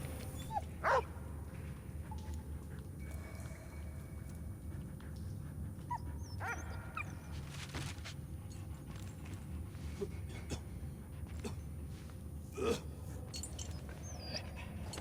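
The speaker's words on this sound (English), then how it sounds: "Dog!" A dog barks in the World War I video game Valiant Hearts: The Great War, a few short, sharp barks spaced apart over a steady low background, with a brief voice nearby.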